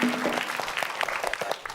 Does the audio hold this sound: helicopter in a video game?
no